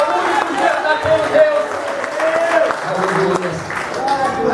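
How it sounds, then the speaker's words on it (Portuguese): A church congregation applauds and cheers during a Portuguese-language service, clapping mixed with shouting voices and a speaker talking over the crowd. "Vamos aplaudir."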